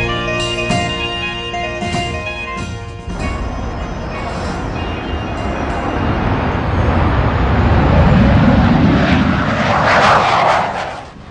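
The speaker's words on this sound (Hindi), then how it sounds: "सारी मेहनत का नतीजा ये जबरदस्त विमान है जो अब सक्रिय सेवा के लिए तैयार है।" An LCA fighter aircraft flies past with a sustained, loud jet roar that builds and swells toward the end; faint music and tones are heard early on, with no talk.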